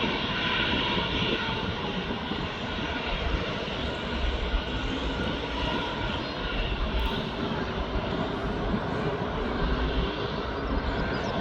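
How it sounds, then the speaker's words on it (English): Bombardier Challenger business jet climbing away after takeoff at East Midlands Airport, a steady loud engine roar filling the whole clip without letting up. "this Bombardier Challenger's now just gone up."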